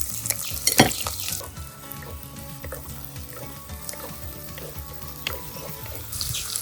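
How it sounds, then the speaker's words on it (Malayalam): Curry leaves and chopped onion sizzle and crackle in hot oil in a pan for a mango chili curry, with sharp pops near the start, clinks of utensils and a steady close frying hiss throughout. "വേപ്പില, അരിഞ്ഞു വെച്ച ഉള്ളിയും ഇതിലേക്കിടാം."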